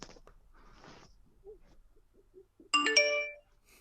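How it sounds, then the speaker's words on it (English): A phone notification chime rings out as a bright, multi-tone melodic alert lasting under a second, loud and close after a stretch of quiet background. "Got notifications."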